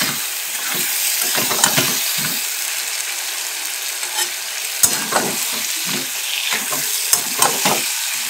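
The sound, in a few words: stir-frying chicken with potatoes for chicken kosha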